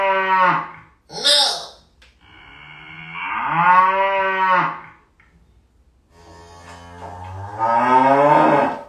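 Cow moos sound out as an effect, several long, loud drawn-out lowing calls separated by short pauses, with speech heard between them.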